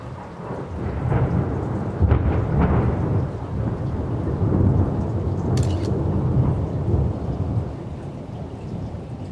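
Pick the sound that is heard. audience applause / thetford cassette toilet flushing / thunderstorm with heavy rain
thunderstorm with heavy rain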